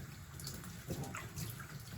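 Water splashing and trickling over a dog's muzzle during a bath at home, a steady close wet wash with soft drips and small splashes, no talking.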